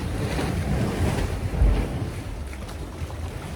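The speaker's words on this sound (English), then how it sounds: "the waves sound like thunder in the background of the cave" Waves crashing inside a sea cave on the Aruba coast, a deep rumbling roar with a heavier thud near the middle, booming and continuous like distant thunder, with wind noise and no voices.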